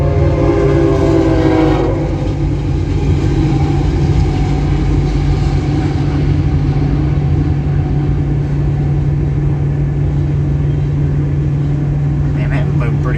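A BNSF freight train rolls past at Friona, Texas, with a steady loud rumble and hum of wheels and cars running throughout, a brief horn-like tonal burst near the start, and no clear talking.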